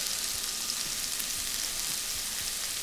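Onions and peppers saute in hot bacon grease in a pot, giving a steady, close, dense sizzle with a few soft scrapes underneath, no voices.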